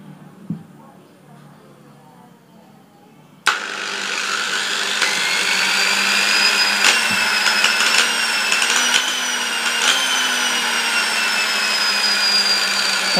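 An electric dynamo motor with its speed set by a light dimmer starts up with a sudden loud whine and then keeps running as a steady, near hum with a slowly shifting pitch. A few faint clicks come before it starts.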